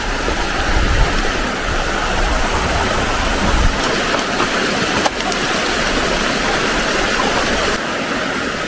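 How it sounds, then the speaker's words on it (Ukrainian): Steady, loud rushing water of the Bila Tysa river flows continuously, a broad roar with no pauses and no voices. "А це річка, якщо не помиляюся,"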